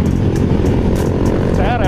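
A short Honda CRF supermoto-style motorcycle passes nearby with a rough, buzzing engine drone, partly under steady talking from riders on the road to Lembang.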